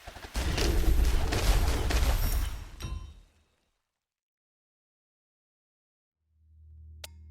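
A barrage attack in the tower-defense game Gemcraft: Frostborn Wrath makes a dense, rattling volley of rapid shots for about three seconds. Then it falls silent before a low hum and a sharp click.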